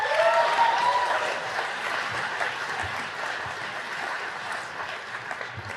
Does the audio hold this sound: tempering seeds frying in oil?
no